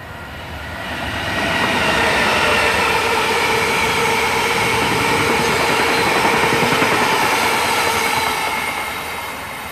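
A freight train passes through Oxford with a loud, continuous rumble and clatter of wagons. The noise swells in over the first seconds and holds steady close by before easing slightly at the end.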